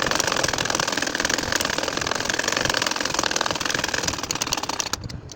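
A sewing machine stitches a nakshi kantha quilt, running as a steady, dense mechanical whir that holds throughout before easing off near the end, with no talk over it.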